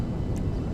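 A fixed-wing airplane flies in GTA V, giving off a steady broadband engine roar with no variation, a continuous drone and nothing else.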